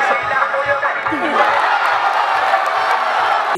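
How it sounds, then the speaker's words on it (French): Home supporters of a local football team roar and cheer after a penalty shootout win, a dense, continuous wall of crowd noise with shouts and whoops, loud and sustained throughout. "c'est finalement l'équipe de Tangueta qui a remporté la victoire, sous les acclamations de son public en délire"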